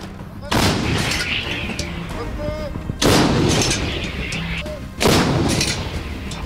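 Barrel artillery firing at a front line: three heavy, close booms about two seconds apart, each with a long rumbling decay, while someone narrates over them.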